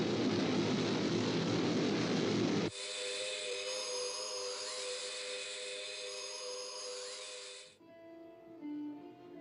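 Sky One, the aircraft in the 1970 TV series UFO, flies past as a sound effect: a broad roaring rush gives way to a high, sustained whining engine tone that shifts pitch, then fades out abruptly.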